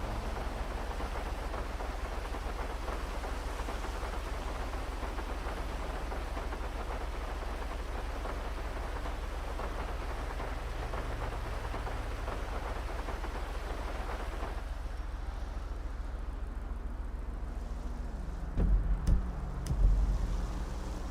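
Steady rain hisses without a break inside the GTA V FiveM role-play game, with low rumbling thunder underneath. The rain thins out partway through, and a couple of brief thumps follow near the end.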